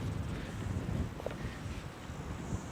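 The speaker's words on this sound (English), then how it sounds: "It's very windy today. I don't know if that's coming through on the camera," Outdoor wind buffets a microphone during a yoga session, giving a continuous low, rumbling roar that stays steady and fairly faint throughout, with no voices.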